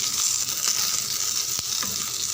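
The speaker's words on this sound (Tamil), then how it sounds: "நல்லா வதங்கிட்டு வெண்டைக்காய்" Okra sautéing in a pan gives off a steady, close sizzle throughout, with a couple of brief utensil clicks.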